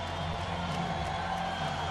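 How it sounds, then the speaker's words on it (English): An arena football crowd in Spokane, at a Portland Thunder versus Spokane Shock game in 2015, sends up a continuous, fairly loud roar of cheering that fills the whole moment without break. "Crowd on its feet here in Spokane."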